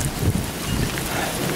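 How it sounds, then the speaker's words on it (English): Rain and gusting wind outdoors during a storm, a dense, loud rush of noise blowing against the microphone with no talking. "I'm standing out here in the rain."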